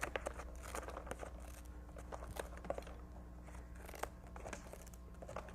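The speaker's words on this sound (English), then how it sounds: "Need some good sharp scissors for this part." Sharp scissors make quiet, repeated snips and crisp crunching cuts through basket weaving material, irregularly spaced, over a low steady hum.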